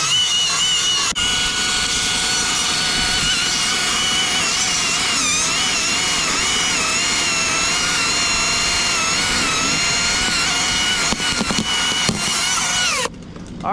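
A chainsaw making a drop cut in a tree roars loudly and continuously at close range for about thirteen seconds, its pitch wavering under load as it bites into the wood, then cuts off abruptly near the end.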